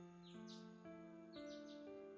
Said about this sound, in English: I can hear the birds outside celebrating the rising of the sun.